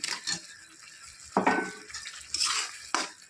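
Chopped tomatoes frying in a pan, a light sizzle broken by several sharp scrapes and clinks of a utensil stirring against the pan.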